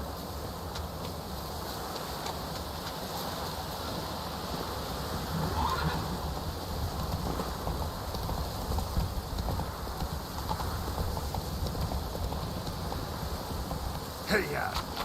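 A horse gallops in The Witcher 3: Wild Hunt with rapid rhythmic hoofbeats, and it neighs now and then over a low wind-like game ambience, close and steady throughout.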